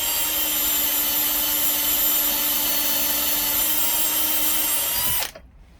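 A power case trimmer spins steadily, whining loudly and close as it cuts 7.62x25 Tokarev brass held in a three-jaw chuck, then winds down and stops near the end.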